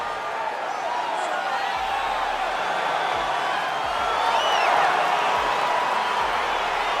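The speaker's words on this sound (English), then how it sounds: "crowd getting excited as this fight gets underway" An arena crowd in the EA Sports UFC 4 fighting game cheers as a fight gets underway, a broad steady roar with rising whoops and whistles, loud and continuous, with no talking.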